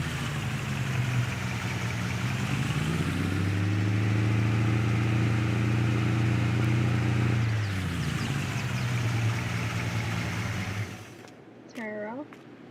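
A Chevy Silverado K30 pickup with a 6.2 diesel engine rumbles steadily up close as it drives and parks, its note dipping midway before cutting off to near silence, followed by a brief faint chirping.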